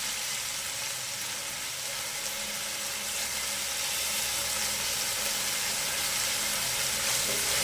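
Chopped vegetables with mint and coriander fry in a pan, giving a steady, loud broadband sizzle that holds evenly throughout with no talking.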